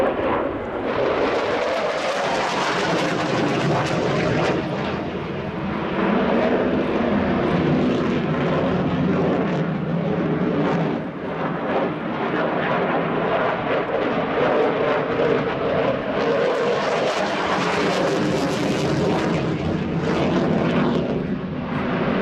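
A Dassault Rafale C fighter jet of the French Air Force roars through an airshow flying display at RIAT 2017, a loud, sustained jet rumble that swells and fades as it passes, with no speech.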